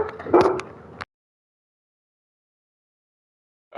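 A pet dog named Lily lets out a short bark and a yip indoors during a podcast chat, a brief close burst followed by silence and a faint sound at the very end.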